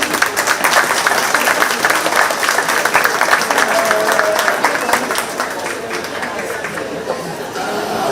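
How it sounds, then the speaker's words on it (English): Applause for the kids at a 4H/FFA sheep show at the 2025 Shelby County Fair, loud, sustained clapping from the crowd mixed with chatter and voices, gradually thinning toward the end. "Let's give all these kids a big round of applause."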